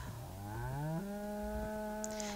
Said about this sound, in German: Das ist eine Kuh und das ist ein Stier.